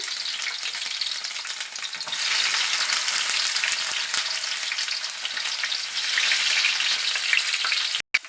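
Onion pieces frying in oil in a pan after tempering spices and lentils, for a drumstick curry fry: loud, continuous close sizzle, dense and even, ending with a brief cutoff.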